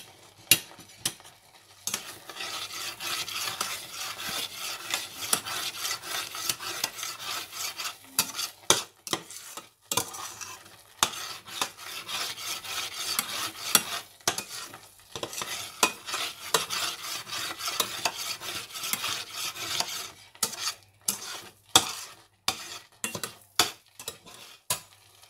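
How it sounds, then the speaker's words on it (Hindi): Milk being stirred in a pan while it cooks down into khoya, with steady scraping and sizzling under repeated sharp clinks of a spoon against the metal pan, close up and with no talking. "अच्छी तरह हिलाते रहना है कि नीचे से लगे ना"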